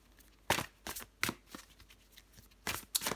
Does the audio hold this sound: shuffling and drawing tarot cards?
yes